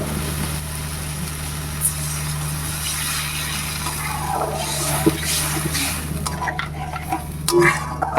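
A spoon stirs spices and sauce in a pan for egg curry, a continuous scraping and soft sizzle over a low steady hum, with a few louder knocks near the end.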